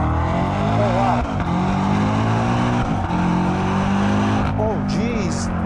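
A BMW M5 CS sedan accelerating hard in manual shift mode with the transmission in its fastest setting, a loud continuous engine roar rising through the gears with brief dips at each shift, and someone speaking over it.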